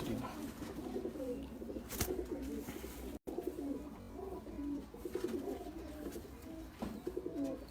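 Female breeder pigeon cooing, repeated soft throaty coos in a steady rhythm, close and fairly quiet against a faint background.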